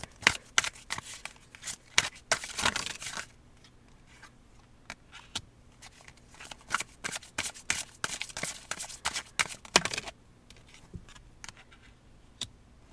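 Tarot cards shuffled in quick riffling bursts, then dealt out one by one with crisp slaps and flicks, close and fairly loud with short pauses between handling.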